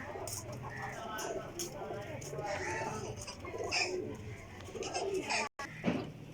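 Black-faced Sialkoti high-flyer pigeons coo softly and repeatedly in a loft, with faint voices talking in the background.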